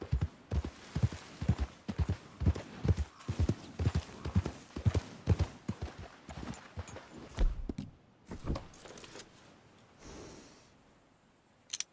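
Horse hooves clip-clop in a steady walking rhythm in Red Dead Redemption 2, close and clear, then slow and fade, with a snort and breathing near the end.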